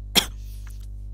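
A single short cough, close to the microphone, followed by quiet with a steady low electrical hum underneath.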